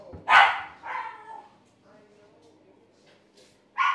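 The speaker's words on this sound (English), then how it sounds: "Dog is freaking out." A dog in a NoPixel GTA roleplay barks loudly in a couple of sharp yaps close by, followed by a softer whine, with a final bark at the end, along with faint vocal sounds.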